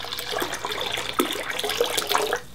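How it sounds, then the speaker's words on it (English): Water drains and gurgles from a small portable washing machine, a steady close rushing flow with a few splashy bursts before it cuts off near the end. "I guess we're gonna drain the water out and then put fresh water in"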